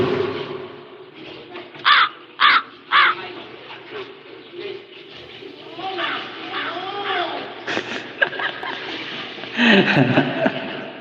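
Several loud crow caws in a quick cluster, then more calls mixed with background chatter and scattered outdoor noise.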